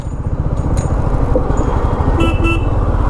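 Congested road traffic stalled at a railway crossing on a rough road during a Siliguri to Kolkata motorbike trip, with steady close engine rumble and a few short horn toots rising above it.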